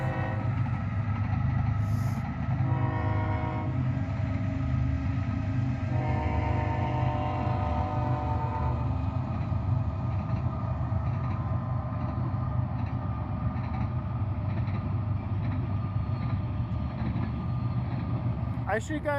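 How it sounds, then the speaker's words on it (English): A train rumbles past near an airport beside a slab of backfilled ground, a steady, loud, continuous roar of wheels and cars holding for about twenty seconds, with no talking over it. "And we got a train coming."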